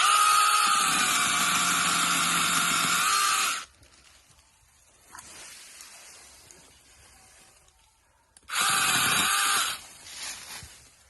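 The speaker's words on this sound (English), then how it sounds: "you still got battery operated chainsaw" A small battery-operated chainsaw whirs at high speed for a few seconds, falls quiet with faint rustling, then buzzes again briefly, close by.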